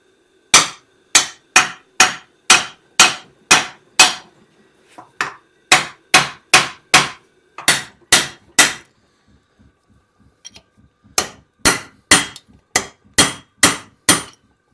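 A hammer pounds a crossmember into place on a truck in sharp, loud metallic blows, fired in rapid bursts of five to eight strikes with short pauses between groups.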